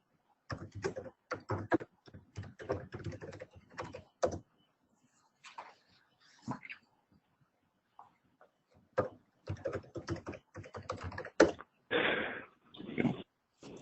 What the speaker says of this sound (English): It helps when you type in the correct password.